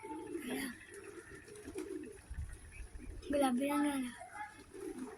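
Pigeons coo softly and intermittently in low, rolling calls while people talk nearby, with some bursts of noise from handling in between.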